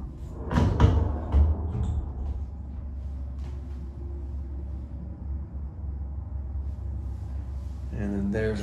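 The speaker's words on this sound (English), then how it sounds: "Let's open a drawer." A drawer in a tiny house with black hardware slides open, giving a brief knock and rumble near the start, then quiet room tone with a person talking briefly at the end.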